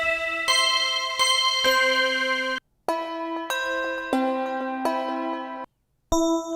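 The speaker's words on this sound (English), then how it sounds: "It's a small glock." A small glockenspiel sample played on an MPC Live 3 rings out in a series of clear, bright bell tones. The notes sustain and change pitch, with short silent gaps between the phrases.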